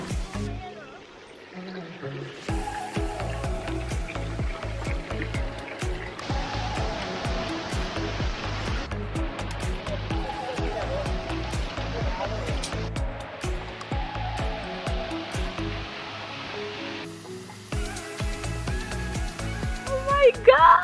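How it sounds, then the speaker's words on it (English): Waterfall in Navajas, a steady broadband rush of falling water that holds loud and continuous from near by, with people talking and moving about over it. "I just wanna lay under that waterfall."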